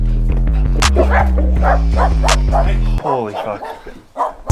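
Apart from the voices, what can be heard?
dog barking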